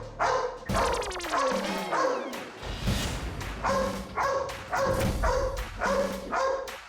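A dog in a household scene barks repeatedly at close range, sharp loud yelps coming in quick bursts with short gaps, some whimpering tones in between, and little other sound around it.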